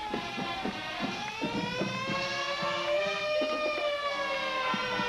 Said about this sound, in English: And Allison, that is a siren right there.